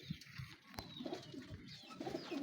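Pigeons coo steadily in a breeding loft, low soft throaty calls repeating and overlapping close by for the whole stretch, with no talking over them.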